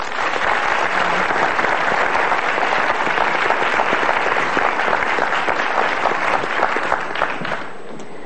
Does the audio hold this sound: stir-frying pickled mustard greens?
no